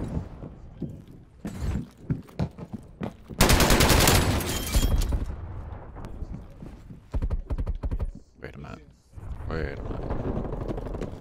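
Gunfire in Call of Duty Black Ops Cold War: scattered shots and a dense, loud burst of automatic fire, with someone talking in between.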